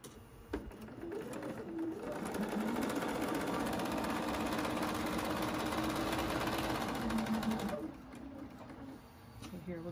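Sewing machine stitching triangle quilt pieces along a quarter-inch seam, running in a fast, even whir for several seconds, then stopping, with quiet handling noises just before and after.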